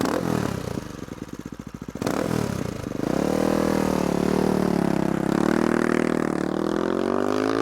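A CCM Street Moto R supermoto motorcycle engine is heard up close, a lumpy single-cylinder idle and blips that then rise into a loud, sustained revving drone as the bike pulls away.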